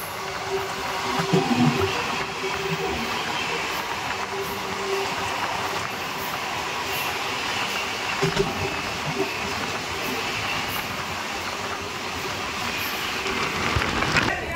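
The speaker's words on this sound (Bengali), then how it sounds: "সামনে থেকে আসছে 12505 নর্থ ইস্ট এক্সপ্রেস।" The 12505 North East Express rolls by with a continuous rail roar and rhythmic clickety-clack of wheels over the track, holding fairly loud and steady throughout with small swells in level.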